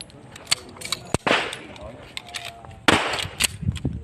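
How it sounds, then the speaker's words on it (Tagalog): Shotgun fire on an outdoor firing range, with two sharp, loud reports a couple of seconds apart, each followed by a short echo, and other people talking faintly in the background. "Shotgun."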